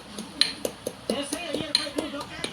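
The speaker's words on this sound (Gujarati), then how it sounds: "ચાલો આપણે એનો ભૂકો કરી" Rhythmic clinking and tapping of metal against a dish, about a dozen sharp knocks at a steady pace, close and fairly loud.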